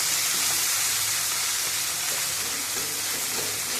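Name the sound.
fish frying in a pan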